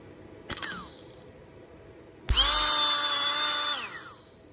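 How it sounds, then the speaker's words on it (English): Repaired Ryobi 18 volt cordless drill motor running, first a brief whirring blip, then a louder whine that spins up, holds steady for over a second and winds down, close and alone. "Looks like we got a running motor."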